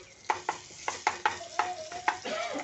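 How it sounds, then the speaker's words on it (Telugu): A spoon stirs gongura chutney with ginger in a hot pan, making a quick series of scraping strokes, close and clear, over a soft sizzle. "మంచిగా కలుపుకొని పచ్చివాసన పోయేంత వరకు ఒక్క టూ సెకండ్ ఉంచండి"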